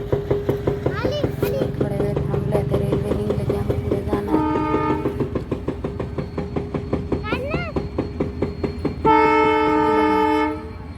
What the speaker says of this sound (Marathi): हे बघा रेल्वे आली आता दमनीवर